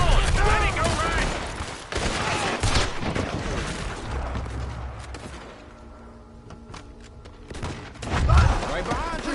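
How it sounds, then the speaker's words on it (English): Gunfire rings out in a Red Dead Redemption 2 shootout, with rapid, loud volleys of shots, shouting voices over them, and a quieter lull before another burst near the end. "We're shooting our way out of here, boys!"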